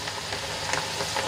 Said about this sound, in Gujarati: આ રીતે હલાવીને આપણે દાળને સરસ રીતે ઉપર નીચે કરીને